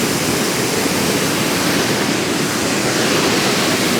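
A waterfall in a canyon in Kosovo roars as a loud, even rush of falling water, close and constant, with some wind buffeting the microphone.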